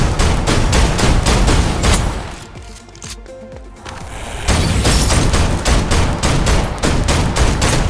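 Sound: gunfire in the video game Snowbreak: Containment Zone

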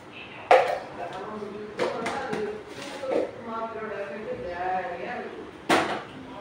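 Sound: chopping citron fruit with a knife

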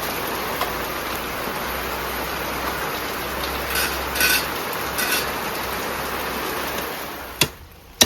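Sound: rain

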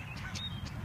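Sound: duck quacking

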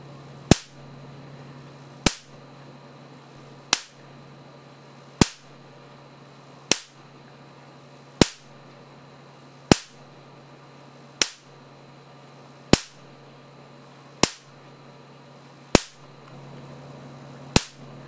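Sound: Marx generator high-voltage spark discharges firing

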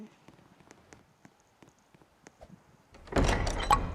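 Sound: door opening in a survival video game

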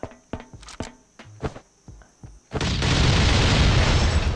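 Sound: explosion in a video game

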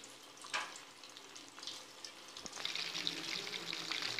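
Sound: breaded chicken pieces frying in oil

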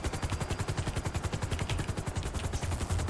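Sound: gunfire from a video game (GTA helicopter chase)

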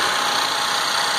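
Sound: 2015 Chevy Malibu LT engine running

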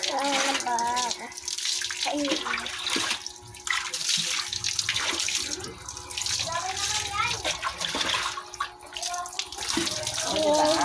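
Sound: dog being bathed with running water

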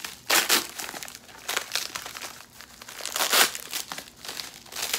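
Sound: plastic packaging pulled off a wallet

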